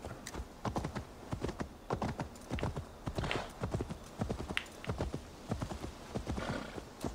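A horse gallops in Assassin's Creed Valhalla with a steady, rhythmic clip-clop of hooves throughout, moderately close, with a brief whinny-like sound in the mix.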